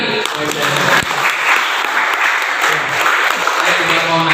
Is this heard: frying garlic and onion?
no